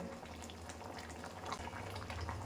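Fish curry bubbling at a steady simmer in a pan, a soft continuous gurgling and hiss with small pops throughout, fairly quiet and without talk.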